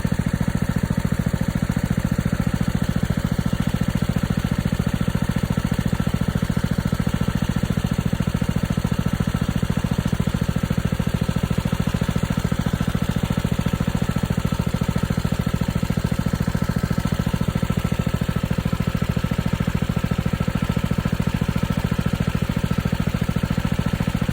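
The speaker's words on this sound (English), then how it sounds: "next I will show you what the pump looks like in action" A pond pump motor runs continuously and steadily with a loud, even mechanical drone, with no voices.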